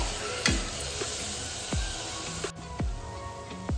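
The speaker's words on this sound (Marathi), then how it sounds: "आता आपण मूग घालून घेणार आहोत। मिक्स करून घेऊया।" Green mung beans are stirred into a cooked spice paste in a frying pan, with a soft sizzle under a few sharp spoon scrapes and knocks spaced about a second apart.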